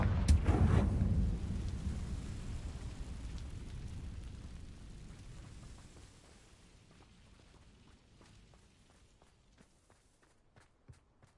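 A Confringo fire spell blast in Hogwarts Legacy opens with a heavy, booming burst. The rumble then slowly fades into a quiet tail with faint clicks and light steps.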